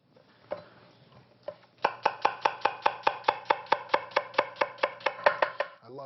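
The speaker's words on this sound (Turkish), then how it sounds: "Ben soğanları böyle kesmeye bayılırım." A knife chops onions on a cutting board for French onion soup: a couple of isolated cuts, then a rapid, steady run of about sixteen sharp, close chops, loud and clear with no talking.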